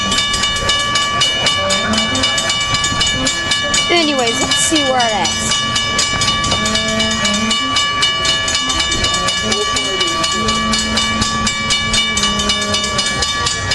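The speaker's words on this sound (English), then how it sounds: "I guess we'll just find out when this train arrives then." An Amtrak passenger train with Amfleet I cars arrives, rumbling and clattering steadily, with whistle-like tones partway through, while a person talks briefly over the noise.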